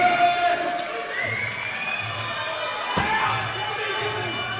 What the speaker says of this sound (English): everyone in the crowd's just calling out for elbows